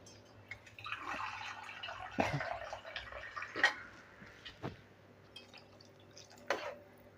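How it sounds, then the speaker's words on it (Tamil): Water is poured into a simmering eggplant curry in a pot, giving soft splashes and drips with a few sharper splats, fairly faint and close. "கொஞ்சம் தண்ணியை ஊற்றி கொதிக்க விட்டுடலாம்"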